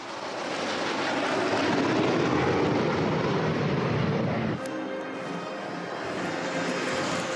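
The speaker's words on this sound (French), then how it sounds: "Au total, 68 avions, 33 hélicoptères survolent la capitale." Military airplanes and helicopters fly over Paris during the 14 July parade, a loud, sustained roar of aircraft engines and rotors that shifts in tone partway through as the formation passes overhead.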